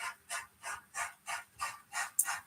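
A River Rossi model Dreyfus Hudson steam locomotive runs under DCC control with sound, giving a regular chuffing beat of about seven even puffs, fairly close and clear, with one sharp metallic tick near the end.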